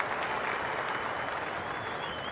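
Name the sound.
cricket crowd applauding a batsman's innings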